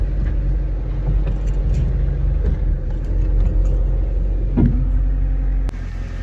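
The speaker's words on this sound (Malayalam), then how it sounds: "ഗിയർ ഷിഫ്റ്റ്, ഗിയർ റിവേഴ്സ് ആക്കണം ബാക്കിലോട്ട്." A car engine runs steadily at close range with a low idling rumble, and a sharp mechanical clunk comes near the end as the gear lever shifts into reverse.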